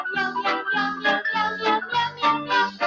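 A cat-like voice meows repeatedly in a quick melodic rhythm in a Meow Mix cat food commercial, several tuneful meows strung together like a sung jingle.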